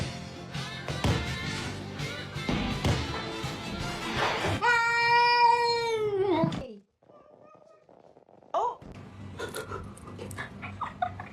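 A cat gives a drawn-out, wavering meow after a stretch of noisy, breathy sounds from a dog and cat, then a short pause and more scuffling noise follows.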